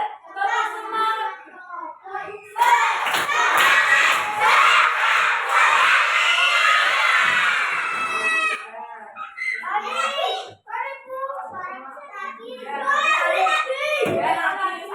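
A group of children in a classroom perform the 'tepuk semangat' clapping chant, with rapid hand claps and shouted young voices filling several seconds. Scattered child chatter comes before and after.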